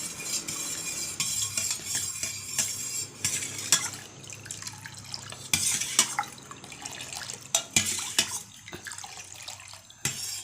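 A spoon scrapes and clinks against a bowl while stirring a homemade kulfi mixture, giving soft irregular taps and swishes over faint kitchen background noise.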